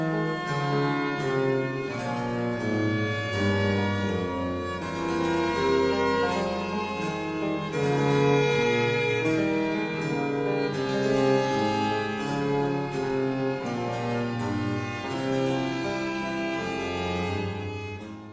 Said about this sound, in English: In the second one, Corelli picked up a very common standard embellishment of the same bass line